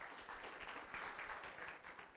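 An audience at a youth leadership program grand finale claps for a Toastmaster, a faint, fairly even patter of applause across the short stretch.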